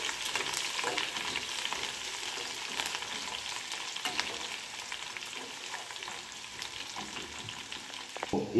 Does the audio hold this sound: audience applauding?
no